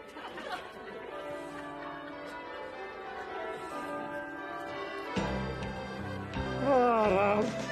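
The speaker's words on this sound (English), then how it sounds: "The bell." A bell rings near the New Year, with repeated ringing tones and chatter and laughter from people nearby, the sound swelling louder toward the end.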